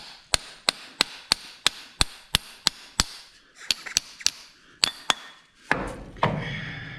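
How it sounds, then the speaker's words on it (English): Hammer tapping a part back onto an M670 front end, a rapid, evenly spaced run of about a dozen sharp metallic strikes, then a few irregular taps before scraping and handling noise at the end. "Give her a couple taps."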